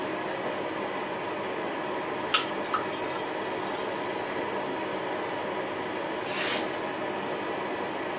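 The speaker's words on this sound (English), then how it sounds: "pass it through a strainer into the bottles that we're going to store it in" Homemade kombucha is poured through a strainer into storage bottles, a steady trickling stream with a couple of brief drips and splashes, close and fairly quiet, with no talking.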